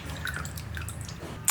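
Water drips and trickles from freshly rinsed cauliflower florets as they drain, a soft, close, steady patter with small splashy droplets and a brief louder splash at the end.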